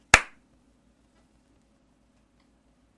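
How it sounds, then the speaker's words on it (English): One sharp hand clap made to sync audio for a remote recording, loud and close at the very start, then quick decay into near silence with a faint low hum. "I'll get you to give me a clap on your end"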